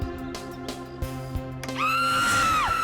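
Sumitra, a woman in a crime-thriller drama, lets out a long, loud, piercing scream that holds steady and then breaks off, following a few heavy dramatic music hits over a droning score.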